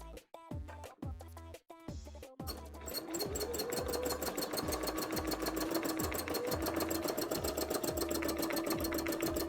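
A domestic sewing machine stitches an embroidery panel for a cosplay costume, starting with a few short stop-start runs and then settling into a steady, fast mechanical whir that is close and continuous.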